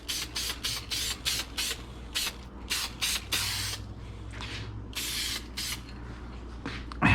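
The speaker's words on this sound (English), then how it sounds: "so we're going to spray both sides." Heavy-duty automotive headliner adhesive sprays from an aerosol can in a run of short hissing bursts, close and loud, for a Cobra Daytona build, with brief gaps and a faint mechanical clicking between sprays.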